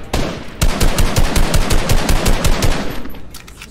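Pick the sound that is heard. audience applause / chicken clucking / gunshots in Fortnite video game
gunshots in Fortnite video game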